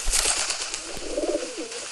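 Pigeons coo in a pigeon video game, a soft rolling coo sounding close and clear over a bright hissing background, with no talk.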